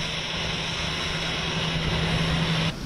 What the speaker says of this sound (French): l'avion transportant le président de la transition burkinabé s'est immobilisé sur le tarmac